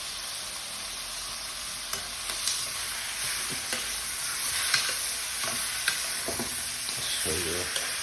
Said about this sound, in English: stir it to get your meat covered in the curry